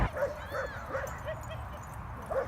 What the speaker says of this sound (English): Took Holly to the dog park.